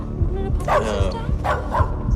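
A dog barking hard from above, a few loud, close barks and yips in irregular bursts over a low rumble, with a person speaking briefly alongside.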